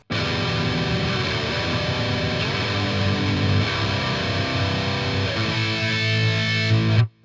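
An electric guitar tuned to drop C plays the intro riff of a song through a single distortion effect, a loud, dense, sustained wall of chugging tone that rings out alone before cutting off abruptly at the end.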